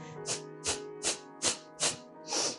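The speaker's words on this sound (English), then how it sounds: "so skull shining breath. It's going to be forced exhalations." Six sharp, forceful exhalations through the nose come at a steady rhythm, about two per second, close up, with no talking, during Kapalabhati yoga breathing.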